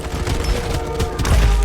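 Rapid gunfire in the battle royale shooter Farlight 84, a loud dense burst of overlapping shots and booms with mechanical clatter, continuous and close with music underneath.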